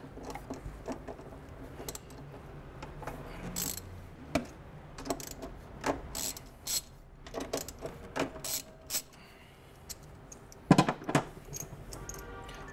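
A socket wrench works an 8 mm nut on a Vectrix electric scooter's motor cable, giving scattered metallic clicks and ratcheting taps at close range, with no talking.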